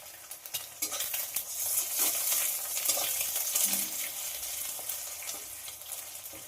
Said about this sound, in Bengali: গরম তেলের মধ্যে যে ডিমটা ফাটিয়ে রেখেছিলাম সেটা দিয়ে দেব ভুজিয়া করার জন্য